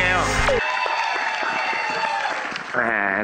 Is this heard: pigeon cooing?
no